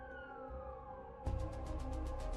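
An ambulance siren wails, starting as a steady falling tone and then switching to a rapid pulsing pattern, heard on its own without talking.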